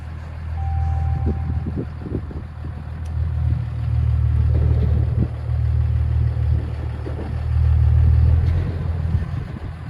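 A vehicle engine pulls away in first gear while hitched to a trailer, a steady, heavy low rumble that holds throughout with slight swells in loudness and no talking.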